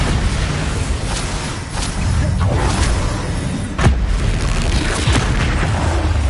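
Bombarda blasting spell explosions in the Hogwarts Legacy video game, a continuous heavy rumble with several booming bursts and sharp pops layered over dense battle noise.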